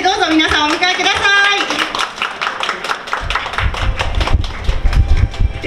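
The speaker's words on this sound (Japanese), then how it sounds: "拍手でどうぞ皆さんお迎えください" Audience applause welcoming the mascot Funaemon at a Tobu Railway Funabashi Station 100th-anniversary ceremony, sharp claps under a busy mix of talk and background sound, heavier and denser toward the end.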